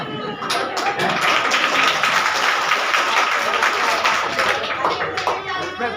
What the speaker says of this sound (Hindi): आपने ताली बजाए